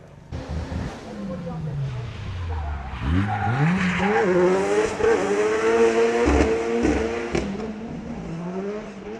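Drift car at a supercar festival sliding around the track, tyres squealing in a long rising and wavering screech over a revving engine, loud and sustained as it passes, with a voice talking underneath.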